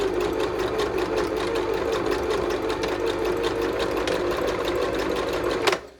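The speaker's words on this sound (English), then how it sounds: "And then I'll just start zigzag stitching." A sewing machine runs steadily, zigzag stitching a blouse top made from a Beetle duvet cover, a close, continuous mechanical whir with a rapid needle rhythm that stops abruptly at the end.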